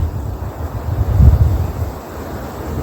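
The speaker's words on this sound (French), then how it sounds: "Voilà, le vent s'invite." Low, rumbling wind buffets the microphone outdoors among trees, swelling briefly in the middle and then easing, with no voices.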